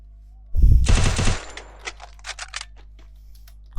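Sniper gunfire in the mobile shooter Free Fire: one loud, booming burst of shots, then a scatter of lighter clicks and taps at a steady level, with no voices.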